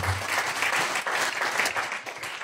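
A church congregation claps loudly and continuously, a dense steady applause filling the whole moment without pause.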